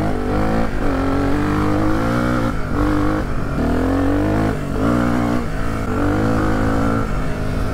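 A Suzuki DR 350 enduro motorcycle engine revved up and down repeatedly, loud and close, each throttle blip rising and falling in quick succession with no talking.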